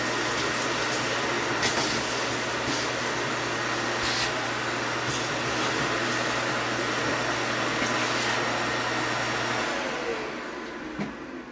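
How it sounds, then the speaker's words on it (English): A vacuum cleaner cleaning around an older home's window runs with a steady droning whine and airy rush, with a few knocks, then shuts off near the end. "You're going to want to get it with your vacuum real quick as well."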